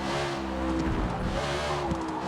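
Race car engine roaring at high revs as it brakes hard from a long straightaway into a heavy braking zone at Mid-Ohio, a steady loud drone with shifting pitch and downshift blips.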